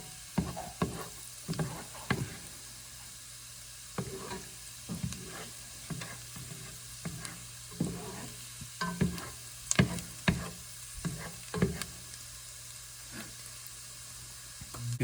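Finely diced brunoise onions soften gently in a pan, a low steady sizzle broken by repeated spoon scrapes and stirring knocks throughout, fairly quiet with no voices.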